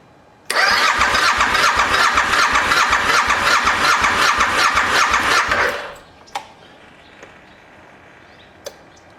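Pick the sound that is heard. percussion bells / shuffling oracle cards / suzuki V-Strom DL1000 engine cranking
suzuki V-Strom DL1000 engine cranking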